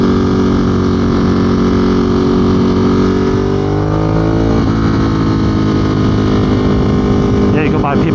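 A 2022 Ducati Monster motorcycle engine runs at low speed with a steady, loud, continuous drone throughout, its pitch holding level and then shifting slightly partway through.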